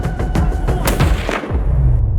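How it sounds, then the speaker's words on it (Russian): A hunting carbine is fired at a fleeing chamois about 120 metres away from a large rocky ledge, giving loud, sharp, cracking reports with rumbling echoes rolling off across the open mountainside. "Первый же выстрел попадает в цель"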